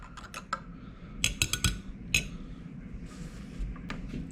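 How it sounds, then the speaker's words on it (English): Spoon stirring green beer in a glass, quick bright clinks against the glass in a brief burst, followed by a soft fizz, close and clear. "Give it a nice stir."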